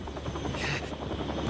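A helicopter in the video game Still Wakes the Deep thumps and whirs with steady rotor chop, loud and close, holding constant without speech.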